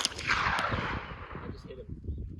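Gunfire at targets outdoors at a boondocking campsite, a few sharp reports with a rumbling tail, fairly close, among faint background talk.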